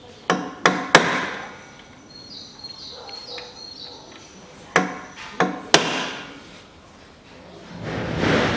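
Sharp metallic taps of a hammer striking a center punch into the intake manifold of a Viking MB 650 V lawn mower ring out in two quick bursts of three, close and crisp, with quiet shop ambience between.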